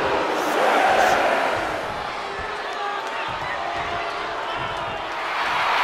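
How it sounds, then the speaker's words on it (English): A wrestling arena crowd in WWE 2K24 roars and cheers around Scott Steiner, a loud swelling wash of noise that rises and falls, with commentary voices over it. "The sound of this crowd is deafening"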